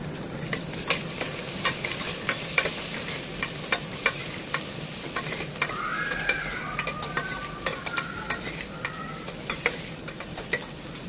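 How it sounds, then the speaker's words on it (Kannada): Two green chillies, two dried red chillies and a little mint fry in a pan, giving a steady close sizzle with repeated sharp scraping taps from stirring throughout, and no voices. "ಎರಡು ಹಸಿಮೆಣಸಿನ್ಕಾಯಿ, 2 ಬಾಡಿಗೆ ಮೆಣಸಿನ್ಕಾಯಿ ಇಷ್ಟು ಹಾಕ್ಕೊಂಡು ಫ್ರೈ ಮಾಡ್ಕೊಳ್ಳಿ."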